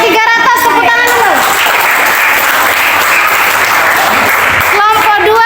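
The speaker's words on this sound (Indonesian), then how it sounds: "Tepuk tangan dulu." Loud, dense applause from a class of eighth-grade students during a quiz competition, a steady wash of clapping that fills the whole stretch, with voices of children and a speaker at the start and end.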